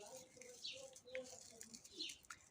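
A small bird chirps near a spot where succulents are potted in wood-shaving substrate, giving faint, scattered high tweets over a quiet background.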